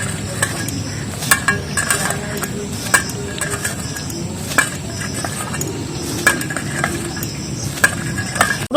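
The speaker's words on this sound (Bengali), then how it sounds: "তেল আর ময়দাটাকে ভালো করে মিক্স করে মাখিয়ে নিচ্ছি।" Flour and oil being rubbed together by hand for khaja dough give soft, close rustling and squishing, with occasional light knocks and clinks against a bowl and no talking.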